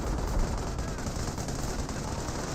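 Sustained machine gun fire from emplacements in Company of Heroes 1, a dense, steady rattle of distant gunfire filling the battlefield without pause.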